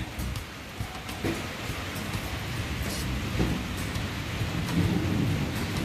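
Rain pours steadily outdoors while low thunder rumbles and rolls beneath it, a continuous dense wash of falling water with deeper swells from the storm.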